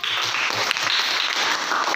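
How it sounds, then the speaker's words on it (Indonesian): Classroom applause from students, a short dense patter of clapping that stays at an even level and fills the whole moment. "Oke, tepuk tangan untuk Agnes."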